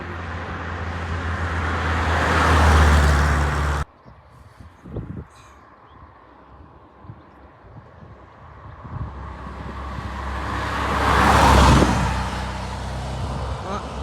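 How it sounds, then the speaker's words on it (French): A first-generation Dodge Challenger with red details passing at a car-spotting roadside: a loud engine rumble swells and fades, quiet wind-blown traffic fills the middle, then a second strong pass rises near the end. "Dodge Challenger première génération"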